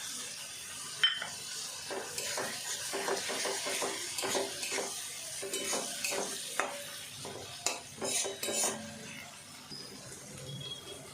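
A spice paste with added tomato paste fries in a pan while being stirred, giving a steady sizzle broken by repeated scraping and clinking strokes of a utensil, moderately close.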